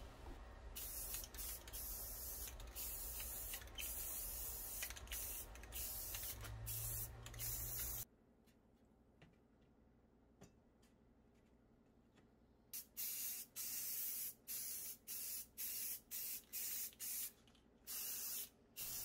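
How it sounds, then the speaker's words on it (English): Repeated hissing bursts of gold metallic spray paint from an aerosol can, some long and some short, close to the microphone, with a quiet pause partway through. "I spray a couple coats of the gold on all different sides and angles"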